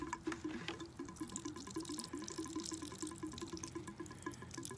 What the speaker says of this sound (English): That was already water that was in the hose.